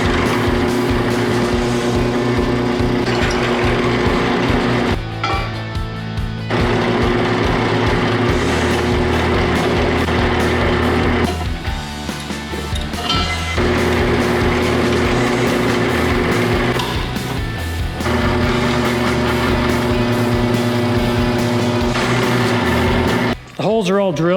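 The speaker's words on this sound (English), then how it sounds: "now I'm gonna drill holes around the ends" A power drill whines steadily and loudly up close while drilling holes in steel tube, its motor cutting out briefly a few times before spinning up again.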